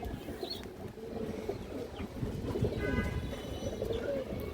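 Indian high flyer pigeons at a farm give soft, low cooing calls, with a few faint chirps, against a quiet background murmur.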